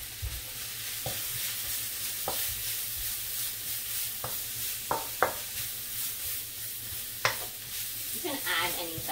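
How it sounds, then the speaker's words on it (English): Vegetables for a leftover turkey chow mein fry in hot oil in a wok, a steady sizzle running throughout with occasional sharp stirring clinks and scrapes, close and moderately loud with no talking. "So I just put some oil here in the wok. We'll just fry that up for a little bit."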